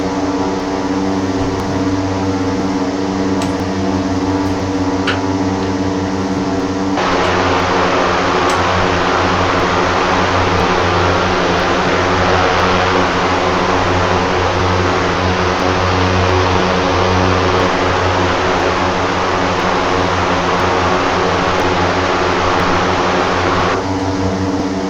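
Propeller aircraft engine of an OV-10 Bronco in Microsoft Flight Simulator 2020, a steady loud droning hum with strong low tonal bands that swells to a fuller, brighter roar partway through as power comes up during roll-out.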